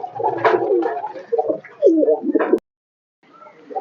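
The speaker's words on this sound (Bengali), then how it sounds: "এই দেখো এই শাটিন পায়রার অবস্থা দেখো" Satin pigeons coo loudly and close, several throaty rolling calls in quick succession, then a sudden cut to silence before fainter cooing resumes.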